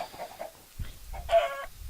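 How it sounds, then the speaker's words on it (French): Video-game chickens cluck in a few short, separate bursts, close and clear against a quiet background with brief gaps between calls. "Alors, hop, les poulets, les poulets, les poulets."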